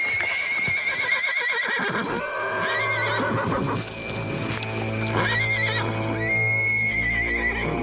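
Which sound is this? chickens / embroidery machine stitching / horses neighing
horses neighing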